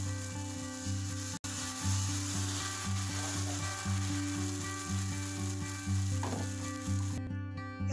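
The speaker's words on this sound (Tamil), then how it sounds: "இதே மாதிரி நாங்கள் மிச்சமாக இருக்கிற மாவையும் ஊற்றி மிச்ச தோசைகளையும் சுட்டெடுத்து கொள்ளுவோம்." Jaffna-style urad dal dosa batter sizzles and fries steadily on a hot pan, a continuous close crackle with faint scraping, no voices.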